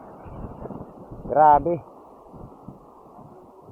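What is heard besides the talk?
strong wind at seaside fishing spot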